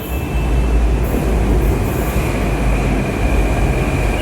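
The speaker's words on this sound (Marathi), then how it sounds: "जयपूरची मेट्रो दिसायला लागली" A four-car Jaipur metro train rolls past nearby, a loud continuous low rumble with rail hum and a faint steady high whine, no voices over it.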